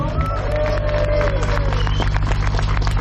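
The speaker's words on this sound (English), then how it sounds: "Big round of applause for the set-up team." A big round of applause for a set-up team at a crowded event, dense sustained clapping and cheering from many hands filling the whole stretch, with crowd murmur underneath.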